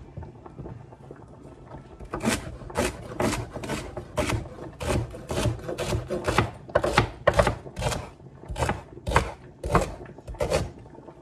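Rapid knife chops through celery on a cutting board, a long run of crisp, evenly spaced knocks close by, speeding up slightly toward the end.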